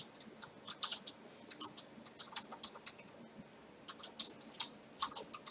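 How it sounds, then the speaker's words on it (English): Fingers type steadily on a computer keyboard, a quick run of soft clicks in short bursts with brief pauses, close and quiet with no talking. "if I could type"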